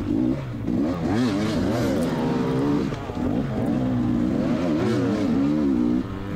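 Motocross dirt bikes race past on a high desert MX track, several engines rising and falling in pitch as riders accelerate and shift, loud and close with overlapping revving.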